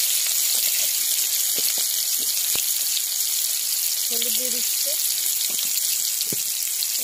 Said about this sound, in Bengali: টুকরো আম দিয়ে দিচ্ছি, আমটাকে ভেজে নেব।